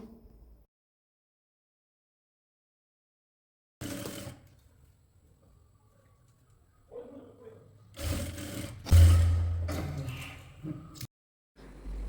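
Sewing machine running in short bursts while stitching a seam on a baby frock, with quiet gaps between runs and a faint voice talking in the background.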